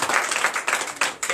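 A church congregation at a Sunday service in Benin applauds loudly, bursts of rhythmic group clapping in uneven waves, close and full, with no voices over it.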